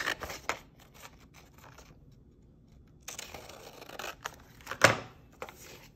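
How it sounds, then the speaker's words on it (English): Scissors cut out a paper picture with two quick runs of crisp snips and rustling paper, separated by a brief quiet gap and ending in a sharper snap, close up and without speech. "So we're gonna find the picture of the tub and we're gonna cut it out."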